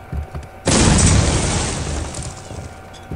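A grenade blows up in the video game Postal 2: one sudden loud boom that rolls into a long fading rumble, preceded by faint background noise, with no speech.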